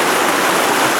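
A river near Raven Cliff Falls rushes in a steady, loud wash of flowing water, close by and continuous with no voices.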